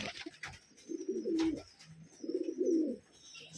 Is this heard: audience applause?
no